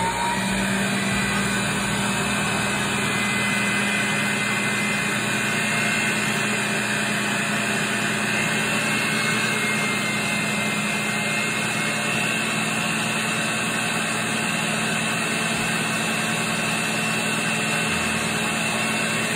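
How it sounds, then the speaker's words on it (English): An electric mixer beats boxed cake batter made with sour cream, a continuous loud motorized whir that holds steady and close throughout with no talk. "So now I'm going to mix this cake."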